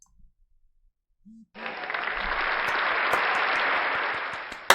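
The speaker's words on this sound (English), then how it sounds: "Let's get the claps and the applause." After a brief near-silence, a burst of claps and applause starts suddenly and holds steady and full until the end.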